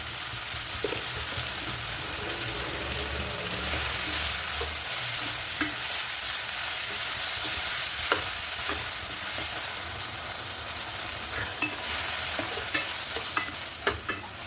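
Ripe tomatoes with salt fry in a pan for a lentil curry, a continuous sizzle with repeated scraping stirs of a spoon against the pan, close and moderately loud.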